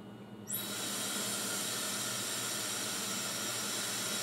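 Someone blows steadily and hard through a straw into a breathalyzer vending machine, making a continuous, close hiss of rushing air that starts abruptly after a half-second and holds without a break.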